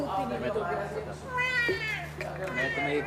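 A person imitates a cat's meow with the voice, a rising, wavering mew standing out between surrounding speech over a steady low hum in an indoor scene.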